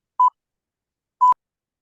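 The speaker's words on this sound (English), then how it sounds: "Who has that beep?" Two short electronic beeps about a second apart come through an unmuted microphone on an online call, clean tones over silence.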